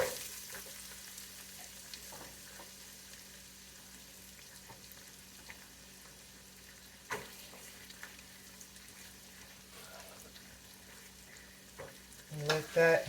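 Onions and celery sautéing in a pot for kale gumbo, a soft steady sizzle with occasional stirring knocks, faint and even, louder clatter at the very end.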